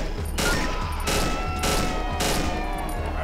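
Loud, close automatic gunfire from the horror video game Cry of Fear roars in three sustained bursts separated by short gaps, with no talking.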